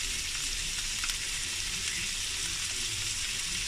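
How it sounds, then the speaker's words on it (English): Sweet sauce hits chicken and long beans in a hot pan, setting off a steady, even sizzle that hisses continuously and fairly softly with no talking. "So I add the sweet sauce."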